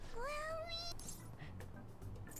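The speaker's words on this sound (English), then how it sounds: "Every time we press Morgana on the head, he has to meow." Morgana, a cat character in the video game Persona 5 Royal, gives one clear rising meow, followed by quiet background rustle.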